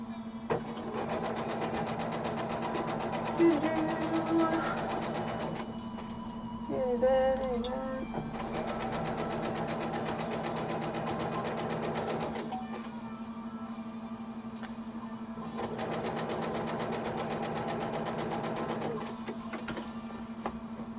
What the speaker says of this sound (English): I'm just stitching off the sides and then I'm going to stitch across